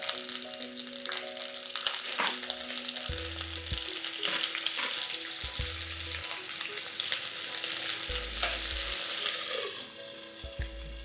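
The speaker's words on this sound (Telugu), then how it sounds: "నూనె కొంచెం వేడెక్కాక ఈ వంకాయల్ని ఇందులో వేసేద్దాం." Eggplant pieces fry in plenty of hot oil for an Andhra-style tamarind curry, a steady close sizzle and crackle with occasional stirring scrapes and faint low hum underneath.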